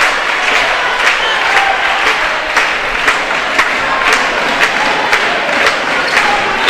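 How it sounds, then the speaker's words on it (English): Crowd at a women's college volleyball match between Tabor College and Oklahoma Wesleyan cheers and applauds steadily at a big point near the win, a dense, sustained roar with rhythmic thumping and clapping throughout. "You can hear the crowd; they're coming alive."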